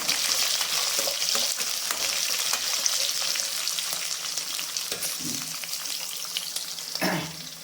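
Slit green chilies sauté in hot oil in a pan, a loud, close crackling sizzle broken by a few scraping stirs of a spoon, with no speech.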